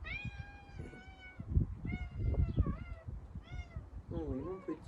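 A cat meows repeatedly, several drawn-out and rising-falling calls at close range, mixed with soft thuds, rustling and a voice speaking during a pilates session.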